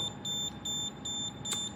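A handheld radiation detector held near a laptop beeps in a steady rhythm, about six short high-pitched beeps over a soft background hum, clear and close.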